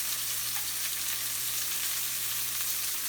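Pork chops browning in a hot pan give a steady, even sizzle, close and continuous with no voices over it.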